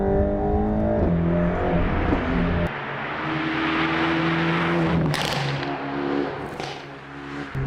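Loud, close exhaust roar of a Mercedes-AMG GT Black Series accelerating hard in Sport Plus, engine tone climbing through gears with sharp shift breaks and crackles, no talking.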